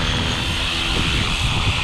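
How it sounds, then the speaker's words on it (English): A Flywing FW450 V3 GPS RC helicopter flies close by, its rotor and motor giving a loud, steady whine and whir with no breaks. "Great machine, great flying helicopter."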